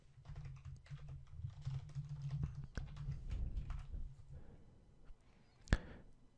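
Quiet, close typing on a computer keyboard while PHP code is written, with irregular clusters of soft key taps, a low steady hum underneath and one sharper keystroke near the end.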